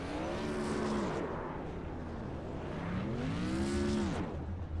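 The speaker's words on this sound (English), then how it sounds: "Burnouts and celebration from the 30 of Adam Baker" Race cars in the sim-racing game iRacing do celebration burnouts at Southern National Motorsports Park, their engines revving up and down in two long rising and falling wails over a steady rumble, with no talk.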